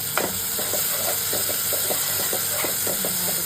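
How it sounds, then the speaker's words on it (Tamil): Tomato being sautéed in a pan for goat brain gravy, a steady hiss and sizzle with scattered scraping stirs throughout, close and fairly loud with no voices. "ஒரு தக்காளி சேர்த்துட்டு நல்லா வதக்கிட்டு"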